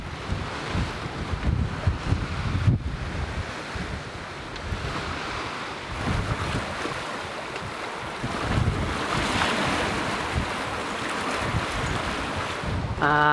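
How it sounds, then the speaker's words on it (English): Steady wind rushes over a sailboat under sail with engines off on the way to the remote Chagos archipelago, with waves washing against the hull throughout and gusty microphone buffeting, no voices. "I do so love when it's just the wind whistling through and no engine noise."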